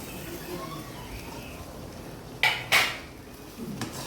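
Fried mango pieces are stirred into melted jaggery in a pan in a village kitchen, a couple of sharp scraping clatters of a utensil against the pan standing out over a quiet background, with another softer knock near the end.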